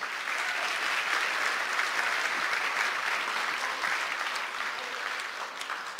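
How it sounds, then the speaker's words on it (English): Crowd at a Connecticut Republican governor debate applauding a group of kids, a continuous, fairly soft roomful of clapping holding steady for the whole stretch, alone without speech. "Have about a round of applause for those kids?"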